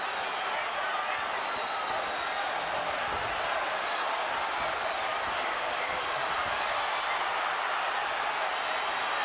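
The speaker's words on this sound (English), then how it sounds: "The crowd is in a fever pitch." A packed arena crowd roars through a Miguel Cotto vs Yuri Foreman boxing bout, a dense, steady wall of cheering with a commentator talking over it.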